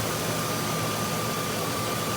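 A modified truck engine runs at a steady idle close by, giving a continuous broadband rumble and hiss with no change in pace.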